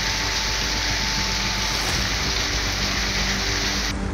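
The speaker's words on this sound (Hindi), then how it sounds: "कर्नाटक के बेंगलुरु में भारी बारिश हो रही है।" Heavy rain falls in Bengaluru as a loud, continuous, dense hiss that stays steady throughout.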